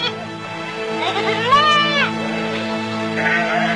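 Goats bleating, a wavering nasal cry that rises and falls over a steady tonal musical background, close and moderately loud with no speech.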